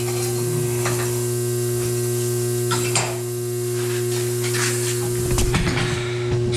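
Welding on homemade door rollers: a steady electrical hum runs throughout beneath a crackling, sizzling hiss, with a brief louder burst near the end and no talking.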